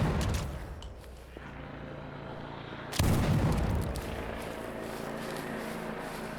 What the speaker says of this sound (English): Not only gunfire in the distance